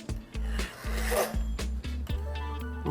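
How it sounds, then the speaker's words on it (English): A fluted pastry wheel rolls along the edges of garlic cracker dough on a work surface, making repeated close scraping, rasping strokes in an uneven rhythm of short passes. "I'm going to take a pastry wheel. I think I'll use the fluted side."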